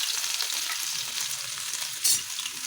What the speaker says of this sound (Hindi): अब मैं इसमें छौंक लगाऊंगी